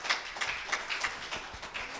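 A church congregation applauds during a sermon, a steady wash of many hands clapping at once, dense and sustained for the whole stretch at moderate volume.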